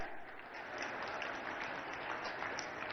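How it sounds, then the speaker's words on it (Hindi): An audience claps loudly and continuously, a dense and even wash of applause with no gaps, heard at a moderate distance. "जोर से ताली बजाओ।"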